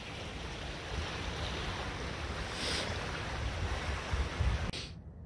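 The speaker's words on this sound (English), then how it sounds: "Check out that river. Sounds really cool." River water rushing past at night in downtown Red Deer, Alberta, a steady broadband wash of flowing water with some wind noise on the microphone, continuous and fairly close, ending with a sudden drop near the end.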